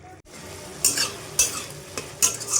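A thick prawn and potato curry bubbles in a pan while a spoon scrapes and stirs in several brisk strokes, with a soft sizzle underneath and no talk.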